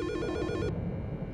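A telephone in the Silent Hill Shattered Memories video game rings with a rapid electronic trill lasting under a second, then cuts off abruptly, leaving a low background hum.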